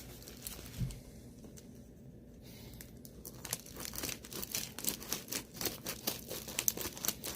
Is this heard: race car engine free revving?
no